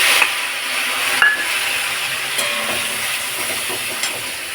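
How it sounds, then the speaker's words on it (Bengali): Spices with cumin, ginger, dried chillies and bay leaf being fried in a pan for dal khichuri, a steady close hiss with occasional soft pops and scrapes. "এবার মশলাটা কষিয়ে নেবো"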